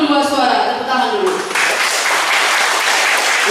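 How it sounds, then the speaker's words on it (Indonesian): An audience at a women's association branch chair election breaks into applause, a loud, dense clatter of many hands that swells and continues steadily after a voice speaking over the opening moments. "Tepuk tangan dulu."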